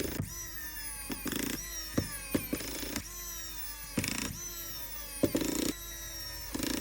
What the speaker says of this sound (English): I'm not going to bore you with watching me screw some screws in